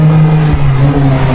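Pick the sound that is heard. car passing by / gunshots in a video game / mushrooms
car passing by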